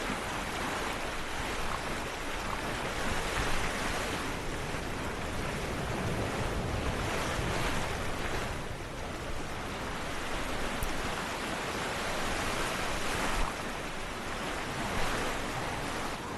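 Waves wash continuously against an old wooden sailing ship in the video game Sailaway 3, a broad steady surf roar mixed with wind rush, swelling and easing gently throughout.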